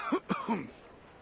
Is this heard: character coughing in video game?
yes